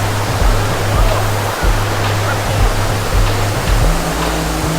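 A hidden waterfall at Barabakhara in Bargarh, Odisha, India pours with a loud, continuous roar, and low steady tones run beneath the rushing water.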